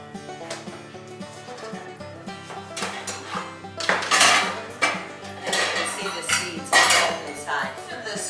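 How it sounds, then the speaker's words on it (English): Seeds being scooped out of a halved squash with a metal spoon, heard as repeated close scraping and clinking strokes against the hard shell and bowl, in uneven bursts. "I'll scoop these out."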